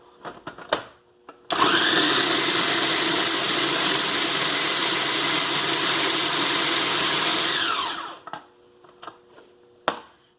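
A kitchen blender whirs loudly and steadily for about six seconds, blending chopped salad vegetables with radish and fresh lemon juice, with a few clicks and knocks before it starts and after it stops.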